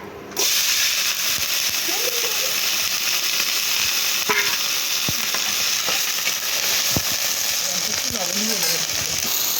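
Sour okra tipped into hot oil with a dried red chili, sizzling loudly and steadily throughout, with occasional clinks of a spatula against the pan.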